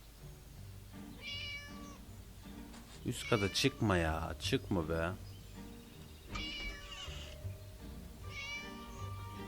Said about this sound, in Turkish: Miyav miyav deyip duruyor.